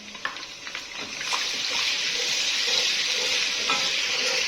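Two spoonfuls of crushed ginger and garlic fry in hot oil for haleem, a steady close sizzle that swells louder after the first second, with faint stirring scrapes and no talking.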